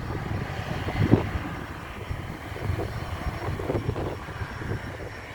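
A fixed-wing airplane passes overhead near Farnborough Airport, heard during a bike ride as a steady, moderately loud engine drone mixed with wind noise on the microphone. No one speaks over it.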